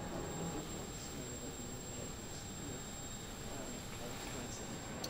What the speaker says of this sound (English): Confirm, engine running.